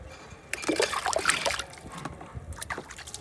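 Water is poured onto a freshly planted thick stem cutting in a home garden, a brief burst of splashing and trickling that swells for about a second, then fades to a few scattered drips and dribbles.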